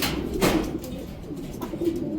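Racing pigeons at a loft after a 188 km race from Buenavista, Quezon, cooing softly with a few wing flutters, fairly close with no talk.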